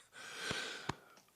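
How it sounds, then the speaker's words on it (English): Two quick, harsh coughs close to the mic, short rough bursts a fraction of a second apart, with a raspy breathy edge. "Boy, was that an old man cough."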